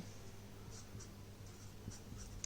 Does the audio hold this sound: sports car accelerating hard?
no